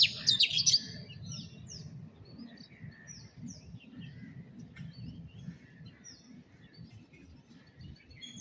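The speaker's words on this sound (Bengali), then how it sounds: "এত কবুতর চলে আসলো কোত্থেকে আবার?" Domestic pigeons call nearby, soft low murmurs running throughout with scattered high chirps, louder at first and then fainter.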